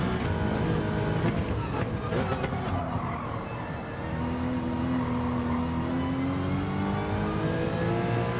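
Gran Turismo race cars on PSVR2 rev and accelerate with a loud, continuous engine roar, briefly rough and choppy early on, then settling into a steady rising whine.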